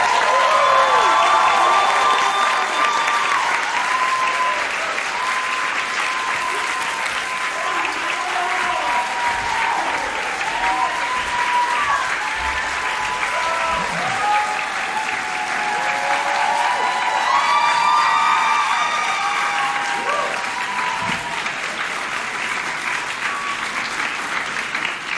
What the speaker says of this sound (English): So I ask you all, with your hands, with your voices, make some noise and welcome Hasan Piker, everyone.